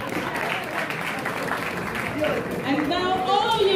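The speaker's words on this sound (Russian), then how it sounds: "Ваши аплодисменты, дамы и господа." Applause from an event audience at a Russian rally-raid's first race day gathering, steady dense clapping throughout with a voice and some higher tonal sounds emerging near the end.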